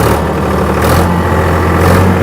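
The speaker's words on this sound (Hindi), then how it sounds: "तो पहले मैं क्लच दबा के ट्रैक्टर चालू कर रहा हूँ" Tractor engine running steadily with the PTO lever engaged at about 1840 rpm, a loud continuous low mechanical drone and hum with no pauses and no talk.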